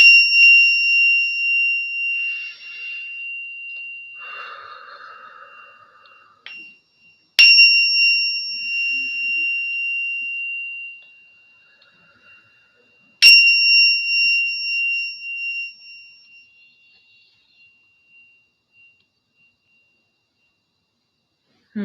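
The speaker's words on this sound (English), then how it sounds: "I'm gonna ring the bell as we've gotten live onto YouTube." A bell is struck three times at spaced intervals, each ring bright and sustained before fading slowly, marking the start of a live stream; one brief low murmur comes between the first two strikes.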